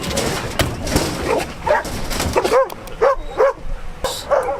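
A five-year-old Belgian Malinois police K9 barks and yips in a rapid series of sharp, close barks with short whimpering sounds in between.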